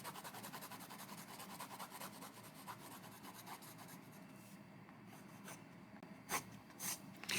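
A Derwent pencil rubs with a dry, papery scratch across textured paper in steady, close strokes, with a few sharper scrapes toward the end.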